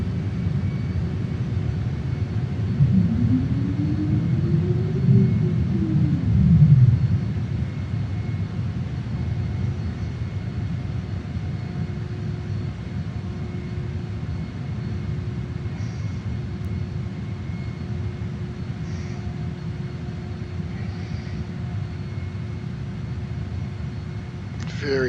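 A Saab JAS 39 Gripen jet coming in to land with gear down and throttle back in Microsoft Flight Simulator 2020, a steady loud engine rumble and whine with a brief rising and falling tone sweep early on.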